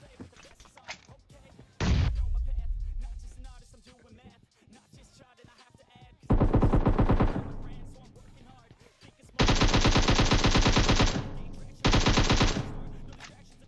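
Bursts of rapid automatic gunfire from PUBG Mobile, loud and sustained, alternating with quieter stretches of footsteps and game sounds.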